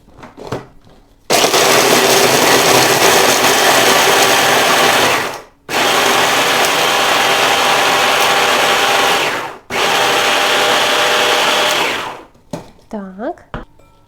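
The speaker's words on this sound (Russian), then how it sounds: "Для получения крошки я буду использовать блендер." An electric blender grinds baked honey cake layers into crumbs, a loud whirring motor running in three long bursts with brief pauses between, followed by a short voice at the end.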